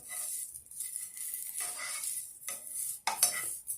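Potatoes with fines herbes and herbes de Provence fry in a pan while they are turned over. A steady sizzle runs throughout, with scraping and clinking from the utensil against the pan.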